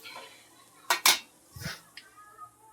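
Aloo paratha being cooked in a home kitchen pan, heard as a few sharp metallic clinks and scrapes of utensils against cookware, with a soft low thump and quieter clatter between, close and otherwise quiet.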